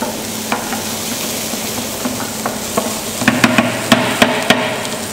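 Bacon and garlic sizzle steadily in a pan while being stirred, with a constant frying hiss and a series of sharp utensil clicks and scrapes against the pan growing more frequent toward the end.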